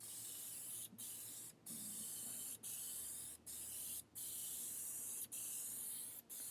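DYC clear gloss top coat hisses from a spray can onto a wheel in a steady series of short bursts with brief pauses between passes, close and fairly quiet, with no voices.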